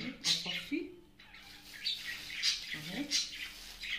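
Small birds chirp and squawk in short bursts nearby, with several bright calls spread across a few seconds while a person talks over them.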